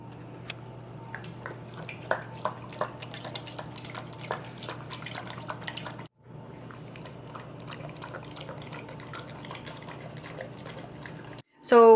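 Cooked kidney broth is strained from a pot, with liquid pouring and a run of irregular drips over a low steady hum, a brief pause midway, then more trickling.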